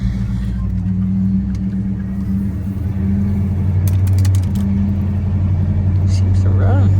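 Test drive in a 1970 Chevrolet El Camino, heard from inside the cab as a loud, steady low engine drone and road rumble that swells slightly midway.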